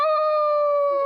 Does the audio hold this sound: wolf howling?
yes